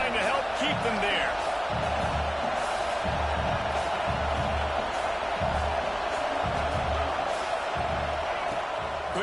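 Football stadium crowd roaring in a steady, broad wash throughout, with a commentator talking over it and faint rhythmic thumps underneath.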